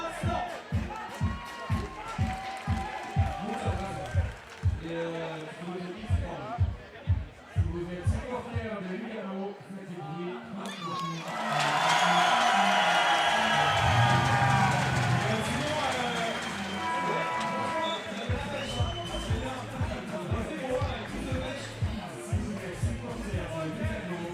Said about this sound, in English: The Swiss fans trying to cheer Lugano to victory